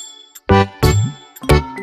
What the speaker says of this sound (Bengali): এখন আবার কে ফোন করে?